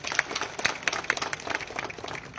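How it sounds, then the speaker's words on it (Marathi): A crowd at an election campaign rally claps in quick, scattered bursts, a brief round of applause heard up close without speech. "यांच्या आता टाळ्या वाजवा एकदा जरा."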